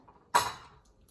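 Rice payasam is moved from an Instant Pot into a bowl, marked by one sharp, close clink of a utensil against cookware that rings briefly and fades in quiet.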